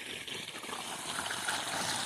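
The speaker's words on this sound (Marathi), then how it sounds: "म्हणून आता इकडं गव्हाला पाणी चालू आहे" Irrigation water runs steadily through a wheat field at dusk, a continuous soft rushing and trickling that stays even and fairly close, with no voices over it.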